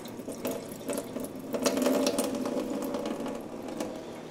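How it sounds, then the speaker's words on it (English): Old tea is poured out and water runs steadily in a kitchen, a continuous splashing stream with small clatters and drips and no speech. "pouring out the old tea."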